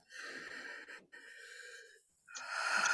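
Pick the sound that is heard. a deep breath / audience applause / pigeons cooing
a deep breath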